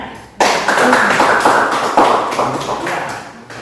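A secondary-school religion class of eleventh graders applauds after a group presentation: a dense, loud burst of many hands clapping starts abruptly and keeps a steady roar for about three seconds before thinning out.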